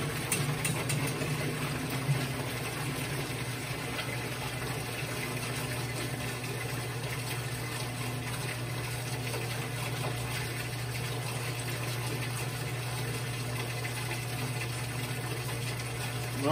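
Water drains steadily from an impact jet experiment apparatus with a cup vane, a continuous low rushing and gurgling hum mixed with faint pump or machine noise, quiet and unbroken.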